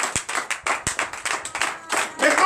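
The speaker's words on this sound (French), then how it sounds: "Donne l'acclamation." Hand clapping from an audience at a deliverance prayer night, sharp separate claps in an uneven rhythm that thickens into fuller applause toward the end, close and fairly loud.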